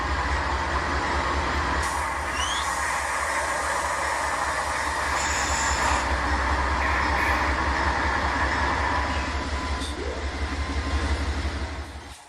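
An HO scale model coal train rolls slowly and continuously beneath a flood loader, giving a steady close mechanical rumble with faint wheel squeals and clicks throughout, no talking.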